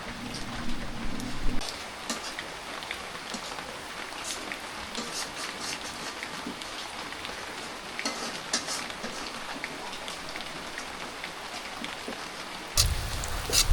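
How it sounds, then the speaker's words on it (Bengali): Heavy rain falls steadily in a village, a dense, even hiss of drops on surfaces close by, with no talking. "যে পরিমাণে বৃষ্টি হওয়া শুরু হয়েছে বন্যা হয়ে যাইব"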